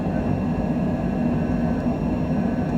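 Steady jet engine roar from a Cessna Citation Longitude on its takeoff climb out of Las Vegas in a flight simulator game, a dense continuous rumble at constant loudness with no talking.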